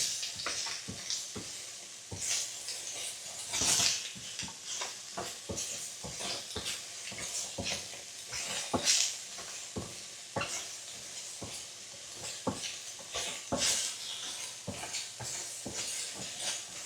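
Vegetables, including carrot, sizzle in a little oil in a pot while being tossed and stirred, with repeated scraping knocks and bursts of hiss, close and fairly loud.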